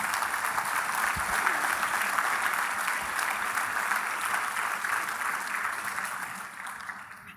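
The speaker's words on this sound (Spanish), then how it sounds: "Entonces déle un aplauso al Señor." A church congregation applauds steadily for about seven seconds during a Spanish-language service, a dense, even wash of clapping that fades slightly at the end.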